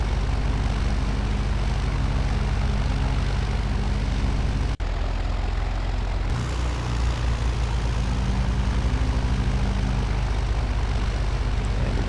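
A Zodiac 601 light airplane engine on landing approach, a loud steady propeller drone filling the cabin with a brief break partway through, the tone dropping slightly as the throttle eases back.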